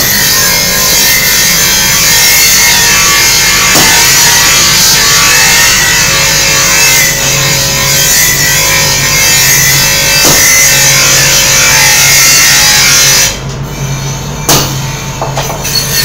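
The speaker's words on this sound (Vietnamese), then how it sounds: "đây là chiếc máy khoan dùng để khoan chốt đóng cán" A drilling machine boring pin holes for knife handles at a blacksmith workshop in the Da Sy forge village: a loud, steady mechanical whirring grind that carries on for several seconds, then cuts off near the end, leaving quieter workshop sounds.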